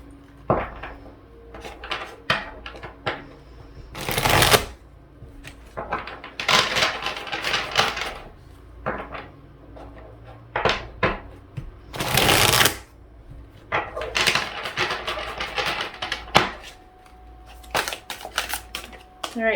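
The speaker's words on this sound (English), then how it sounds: "So I'm going to start by shuffling the cards." Tarot cards shuffled by hand at close range, making a run of crisp, irregular riffling and slapping bursts, with two especially loud, dense flurries among quieter card rustles.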